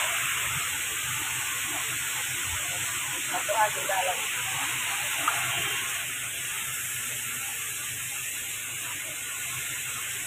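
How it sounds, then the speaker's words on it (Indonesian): A steady, hissing spray of water runs throughout as a car is hosed down, with faint murmuring voices underneath. "Mobil saat ini dicuci, disiram."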